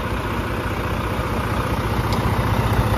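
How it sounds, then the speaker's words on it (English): A tractor-trailer truck engine idles steadily nearby during an exhaust system inspection, a loud continuous low rumble with a slight pulsing rhythm and no talking. "Before inspecting exhaust system, make sure your tractor is running."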